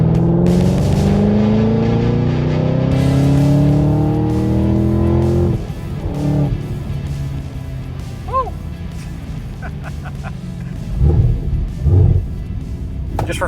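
A Chevrolet Camaro ZL1 with a boosted LT4 engine accelerates hard at full boost, loud rising engine roar through several gear-changes, then easing off into a lower rumble with tire noise, heard close with no talk.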